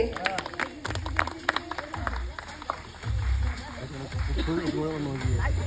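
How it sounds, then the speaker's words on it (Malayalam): Wedding guests at a Kerala marriage ceremony clapping in scattered bursts, several rounds of applause mixed with someone talking loudly nearby. "എല്ലാവരും ഒന്ന് കൈയടിച്ചേ"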